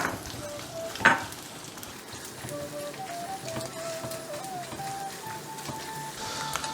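Coconut pieces fry in hot ghee for a Vishu bamboo rice payasam, a steady close sizzle and crackle with a sharper pop near the start, with no talking over it.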